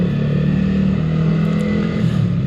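A Yamaha R15 motorcycle engine rumbles loudly and continuously up close, its exhaust note holding a steady low growl with slight revving fluctuations.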